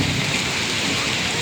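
Heavy rain hisses steadily around a street food stall, loud and unbroken, with a low rumble of thunder blended into the downpour during a storm.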